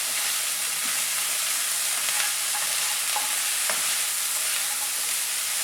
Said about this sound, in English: the broccoli and the carrots that have been blanched, and the capsicum. Give it a nice mix. Keep the flame on high.